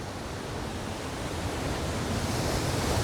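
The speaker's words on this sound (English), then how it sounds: "look at the power of these waves" Powerful ocean waves roll in and crash on the shore as a dense, steady roar of surf that builds slightly, with no voices.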